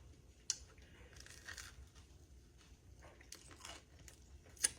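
Someone bites into and chews a crunchy leftover cheese biscuit with crisp edges, giving quiet, close crunches and soft chewing in an otherwise hushed room, with a couple of sharper snaps standing out and no talking.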